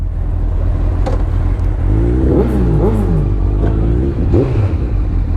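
A Honda CBF1000 motorcycle engine fires up and revs, with rising and falling pitch sweeps from repeated throttle blips over a steady close idle rumble.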